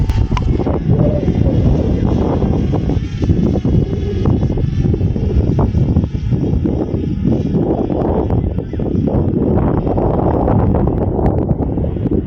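A FIMI X8 Mini V2 drone climbs in a gusty northeast wind, its motors giving a steady whirring drone beneath heavy wind rumble on the microphone, continuous and close throughout.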